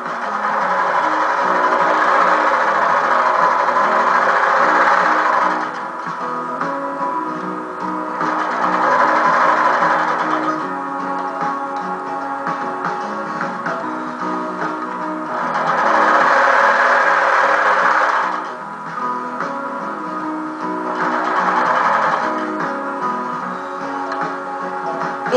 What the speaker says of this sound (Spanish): Yo con mucho cuidado le voy a hacer una costura. Venga. Uniendo todas las piezas.